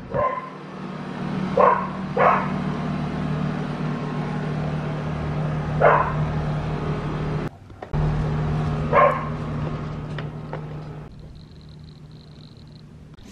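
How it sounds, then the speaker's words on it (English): A neighbouring dog barks outdoors before dawn, several separate barks spaced irregularly at moderate distance, with a low steady hum underneath and a brief faint whine near the end. "Yeah, my neighbor's dog."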